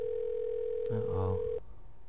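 A phone call tone from the video game Metal Gear Solid V: The Phantom Pain, a steady electronic tone holding for about a second and a half before cutting off abruptly, with a brief low rumble in the middle.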